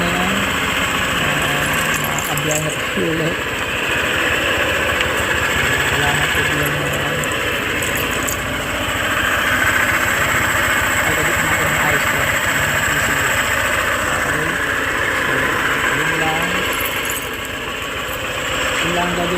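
A Honda ADV scooter engine runs steadily after repair of a burnt ECU socket that had kept it from starting, holding a continuous close idle for the whole stretch with faint voices at times.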